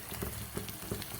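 An egg frying in hot oil gives a soft, steady sizzle with a few gentle crackles, quiet and close.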